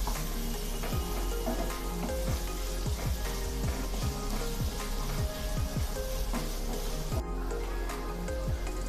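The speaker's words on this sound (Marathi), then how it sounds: "आता हे सर्व जिन्नस आपण छान सोनेरी रंग येईपर्यंत परतून घेऊया।" Chopped onion and green chillies sautéing in a hot pan for a traditional Marathi green amaranth dish, giving a steady close sizzle with crackling pops throughout and no voices.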